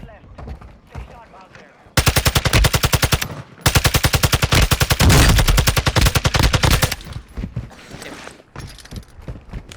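Loud automatic gunfire from Warzone 2.0, two long rapid bursts of dense, evenly spaced shots close up, with quieter in-game sounds and speech around them.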